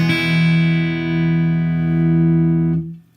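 A single guitar chord strummed down across all six strings, ringing loud and sustained for nearly three seconds with no voices, then damped to silence.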